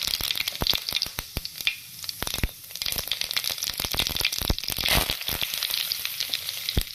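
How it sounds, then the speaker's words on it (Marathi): Cumin, mustard seeds and curry leaves tempering in two tablespoons of hot oil, a loud, continuous sizzle with dense crackling pops and sharp spits scattered throughout, close by. "आता आपण जिरे मोहरीची फोडणी व कडीपत्त्याची फोडणी देऊया"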